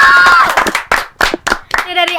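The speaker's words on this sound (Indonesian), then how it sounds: "Tepuk tangan buat Wakil Ketua" Clapping for a school's vice-chair at a small gathering, heard as a short patter of uneven hand claps mixed with voices and someone talking.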